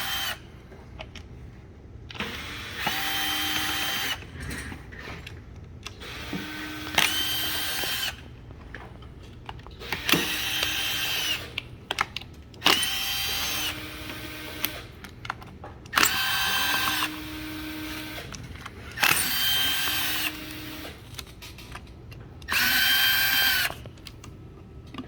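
Power tool driving out the deck cover screws on a Kaabo Wolf X electric scooter, in seven or eight short whirring bursts with quiet gaps between them. The sound is close and fairly steady, and no one speaks.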